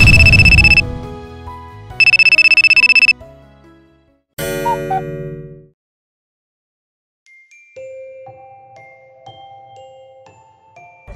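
A telephone rings with loud electronic bursts, two repeating tones, then a brief melodic jingle, followed by silence and faint tones, without speech.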